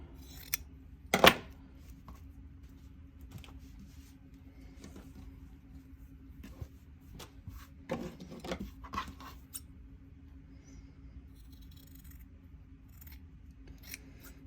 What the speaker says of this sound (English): So we're going to cut this out.